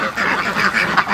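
Several ducks quack loudly and continuously at close range, overlapping nasal calls forming a noisy flock chorus through the whole short stretch.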